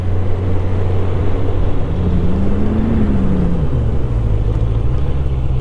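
A QJ Motor SRK 800RR sport-touring motorcycle idles steadily, its low engine drone loud and close with a slight rise and fall in pitch midway.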